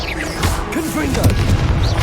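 A Confringo blasting spell explodes in Hogwarts Legacy on PS5, a loud, dense booming blast with crashing debris and a shouted voice over the din.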